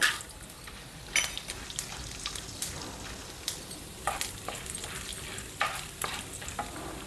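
Urad dal and chana dal fry in a pan over a medium flame, a faint steady sizzle broken by repeated scraping and stirring clatters with no talking.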